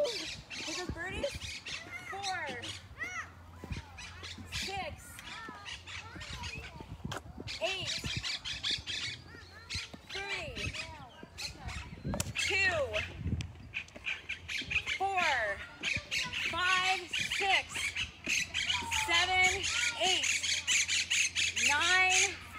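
Birds squawk repeatedly and loudly at an outdoor bird festival, harsh calls overlapping in a busy chorus while a person counts and talks over them throughout.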